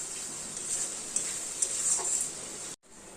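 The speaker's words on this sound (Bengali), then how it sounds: "এরকম করে ভালো করে নাড়লে দইটা পুরো মিক্স হয়ে যাবে ভালো মতো" Spiced yogurt masala being stirred in a pan while cooking pabda fish kalia, a steady soft scraping and sizzling texture with a couple of small clinks, close and continuous before a brief cutoff near the end.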